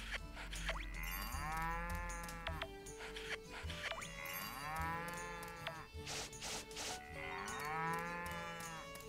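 Cattle mooing inside the barn in the farming video game Story of Seasons: Pioneers of Olive Town, with three long, drawn-out moos at a steady pace over a continuous farm backdrop.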